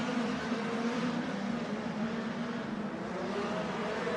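Midget race cars run on a dirt track at Plymouth, Wisconsin, a steady, fairly faint engine drone from the field in the distance, heard alone with no talk.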